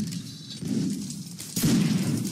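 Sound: musket volley fire in video game Mount and Blade Napoleonic Wars

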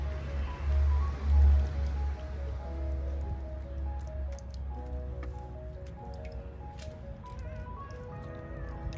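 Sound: watering a planted seed in soil

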